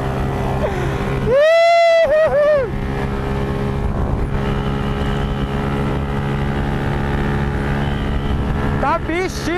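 A loud motorcycle engine drones and revs, rising sharply in pitch a few times, with wind buffeting and voices shouting over it.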